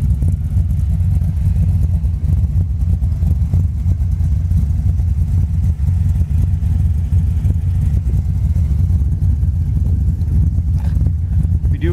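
A 1968 Ford Mustang engine idles through chrome dual exhaust tips, a loud, throbbing low rumble heard up close and holding steady throughout.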